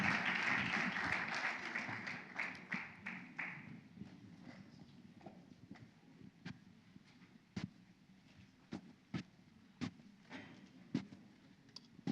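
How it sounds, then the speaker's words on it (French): A church congregation applauds at a service, the clapping dense at first, then thinning out into scattered, isolated claps that sound faint and sparse. "Sous vos acclamations."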